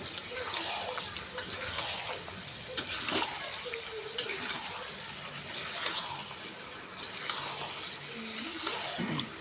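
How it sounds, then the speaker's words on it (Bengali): Potatoes fry in a pan with a soft continuous sizzle, broken by regular scraping stirs and light clinks, fairly quiet. "আলুগুলো দিয়ে দিয়ে ভালো করে কষিয়ে নিই"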